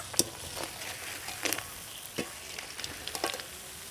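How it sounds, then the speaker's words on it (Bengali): Laccha nimki deep-frying in hot oil, a soft steady bubbling sizzle broken by several sharp scraping clicks of a utensil moving the pieces, close and fairly quiet with no talking. "বন্ধুরা প্রায় পাঁচ সাত মিনিট ভাজার পরে কিন্তু নিমকির একটা খুব সুন্দর কালার চলে এসেছে"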